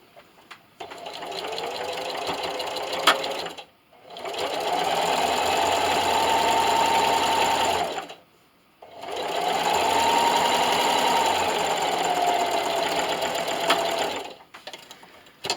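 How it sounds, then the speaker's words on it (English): A sewing machine runs a straight stitch through fabric for a tablet stand, three steady motor runs of several seconds each separated by short pauses, close and alone without talk. "I'm going to sew right on my chalk line, being careful not to hit my cardboard."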